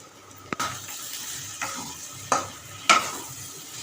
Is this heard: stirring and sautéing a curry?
yes